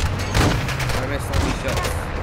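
Gunfire in Call of Duty Modern Warfare II DMZ mode, a dense burst of shots running throughout at steady loudness, with voices talking over it.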